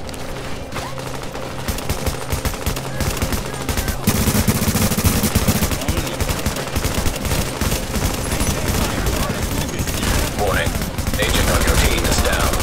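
Rapid automatic gunfire in a fight from the video game The Division, dense sustained bursts of shots that grow louder and heavier partway through, with a player's voice talking underneath.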